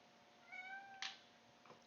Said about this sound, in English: Do you hear them meowing?